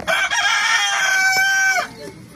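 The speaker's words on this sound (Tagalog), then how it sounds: "Ingay talaga yung manok." A rooster crows loudly and close by in one long, drawn-out call, followed by a brief softer cluck as it trails off.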